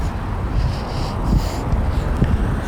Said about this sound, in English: it's windier than a son of a gun